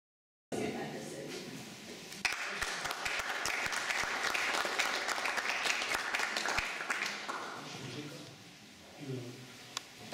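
Applause from the audience at an award ceremony and book launch, starting abruptly, building into sustained clapping with a few sharp individual claps, then thinning out toward the end as a voice begins speaking.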